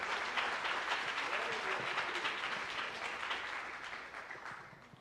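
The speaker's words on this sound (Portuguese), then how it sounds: "uma vez aplauda ao Senhor pela vida do servo de Deus" A church congregation applauds in praise during a Brazilian Portuguese worship service, a dense, steady wash of many hands clapping at moderate distance that slowly fades over the few seconds, with faint voices mixed in.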